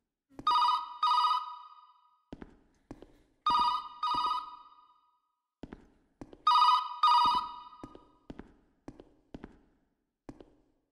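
A telephone rings in the itch.io horror game A Sold House: three pairs of loud, shrill bell bursts separated by pauses, with scattered sharp knocks and footstep-like thuds in between and no talking.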